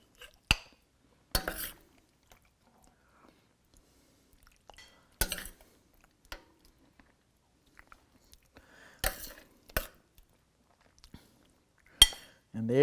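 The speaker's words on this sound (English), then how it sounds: "I am now going to use a spoon because I need to get it out because I want some of the juice." A spoon scrapes and clinks against a pan while cavatelli pasta made with 00 flour is scooped onto a plate, a few sharp metallic taps separated by quiet pauses, close to the microphone.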